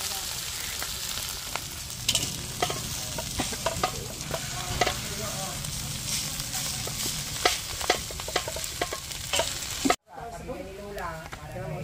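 Leftover steamed rice sizzles steadily in a pan while being stirred, with scraping and clinking from the utensil over the frying, and voices murmur faintly in the background.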